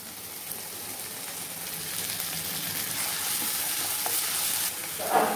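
Curry leaves, coriander and tomato sauté in a pan for potato rice: a dense, loud, continuous sizzling hiss with faint stirring taps, with no one speaking.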